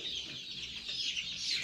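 Chickens in a poultry shed keep up a continuous, dense chorus of clucking and chattering from a large flock, moderately faint and steady throughout, with no talking.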